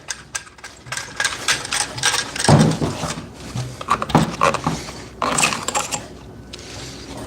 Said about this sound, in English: Bandsaw blade, we're going to wiggle out.